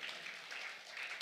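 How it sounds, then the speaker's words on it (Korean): Church congregation applauding during a Sunday evening worship service, a brief, soft, even patter of clapping heard from a distance with no voices over it. "깨닫는 사람 박수"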